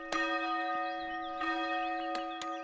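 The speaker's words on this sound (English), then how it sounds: "we heard the church bell ring" Church bells in the medieval city-building game Foundation ring out in several separate metallic strikes, each leaving a long sustained tonal hum, clear and moderately loud with no talking.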